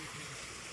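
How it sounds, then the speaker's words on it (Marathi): Water runs steadily from a tap or shower in a hotel bathroom, a close, continuous broadband rush with no pauses and no voices. "हे बघा पाणी येते."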